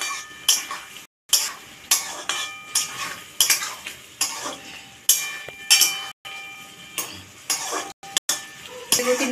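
Spices for home-style chilli chicken stirred in a pan with a metal spoon: rhythmic scraping strokes, about a dozen, against a light sizzle, close and clear with no talk.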